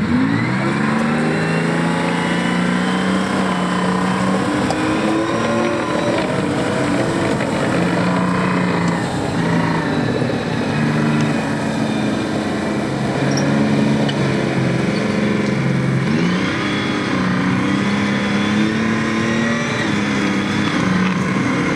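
A British Army armoured personnel carrier drives at a tank display at Bovington, its engine a loud, steady, droning roar with some rising revs, continuous throughout and heard alone without talk.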